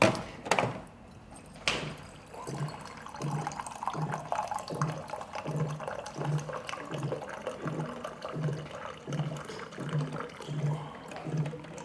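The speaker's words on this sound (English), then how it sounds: "So I am now going to add water here." Water is poured into a pouch of freeze-dried chili cheese mac, a trickling, splashing fill after a couple of sharp knocks, with a steady rhythmic pulsing beneath the quiet pour.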